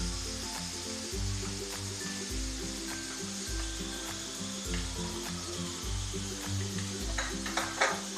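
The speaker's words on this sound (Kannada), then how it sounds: "ಮೈದಾ ಹಿಟ್ಟು ಚೆನ್ನಾಗಿ ಹುರ್ಕೊಳ್ಳಿ. ಇದರಲ್ಲಿ ಎಣ್ಣೆಯಲ್ಲಿ ಚೆನ್ನಾಗಿ ಹುರ್ಕೊಳ್ಬೇಕು." Maida flour roasting in oil in a pan gives a steady sizzle with faint scraping as it is stirred, close and continuous with no talking.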